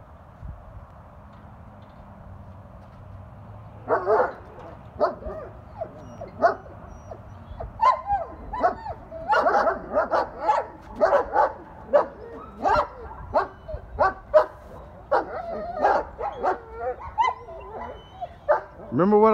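Several dogs, young hunting-dog prospects on a kennel line, bark and yip repeatedly in quick overlapping bursts from about four seconds on, fairly close and lively, with some whimpering and low background noise.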